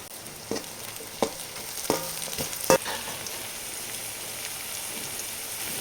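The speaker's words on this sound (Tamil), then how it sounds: "ஸ்டவ் ஃபுல் ஃப்ளேமில் வச்சு வேக விடுங்க இப்போது கேப்சிகம் சேர்த்துக்கலாம்" Capsicum stir-frying over a full flame for mushroom fried rice, a steady close sizzle with scattered clicks and scrapes of a spatula stirring in the pan, no voices.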